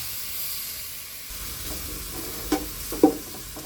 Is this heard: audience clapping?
no